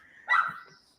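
A single short dog bark, close and fairly loud, ending in a brief whimpering tail, with no voices around it.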